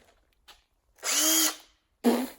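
A power drill whirs in a short spin of about half a second and then gives a second brief burst, close and loud, while flat-pack IKEA wardrobe assembly goes on in the background.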